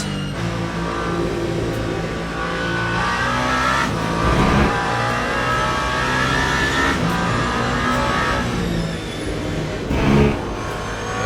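A race car engine roars continuously in the Le Mans Ultimate sim during a 24 Hours of Le Mans stint, loud and close, its pitch rising and falling through gear changes with brief bursts around heavy braking into a turn.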